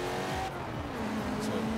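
A 1996 Chevrolet Impala Super Sport in Forza Horizon 4, a loud engine note rising and falling steadily with squealing tires, heavy and continuous with no talk.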